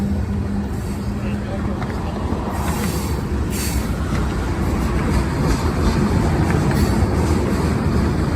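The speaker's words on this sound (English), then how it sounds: "it is very common to see Norfolk Southern locomotives like this one right here" A Norfolk Southern locomotive rolls by with its train in Shreveport, a continuous heavy rumble and rail noise filling the scene, with a few brighter squeals or hisses rising briefly midway.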